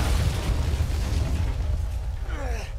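An explosion in the video game Resident Evil 7, a sustained heavy low rumbling blast that rolls on loudly with debris-like noise and fades slightly at the end.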